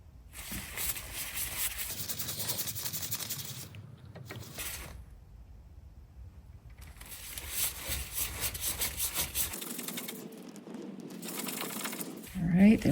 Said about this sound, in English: Now we're going to loosen the retaining screws here and here with a Phillips head.